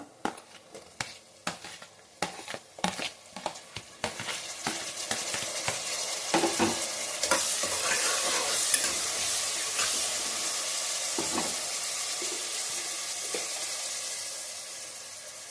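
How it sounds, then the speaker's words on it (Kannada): Capsicum and tomato fry in a pan over a medium flame. It opens with about a dozen sharp knocks and clatters of stirring, then settles into a continuous close sizzle and hiss with occasional scrapes and no talk. "ಕ್ಯಾಪ್ಸಿಕಮ್ ಹಾಕ್ಕೊಳ್ಳಿ, ತುಂಬ ಟೇಸ್ಟಿಯಾಗಿರುತ್ತೆ. ಅದನ್ನು ಈ ಸ್ವಲ್ಪ ಫ್ರೈ ಆಗಬೇಕು."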